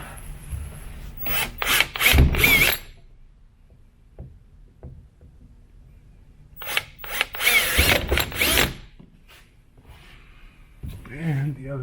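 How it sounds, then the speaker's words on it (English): Two bursts of drilling holes into wood for kayak landing gear, each a couple of seconds long with a quiet gap between, heard close up alongside occasional speech. "we're going to drill our holes"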